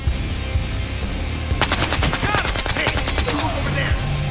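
Suppressed gunfire from a weapon in the video game Battlefield Hardline, a rapid run of sharp muffled shots starting partway in, firing in quick bursts over game ambience with faint voices.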